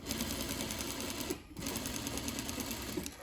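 A sewing machine runs steadily, stitching a narrow rolled hem about an eighth of an inch wide, with a brief pause in the middle before the motor picks up again.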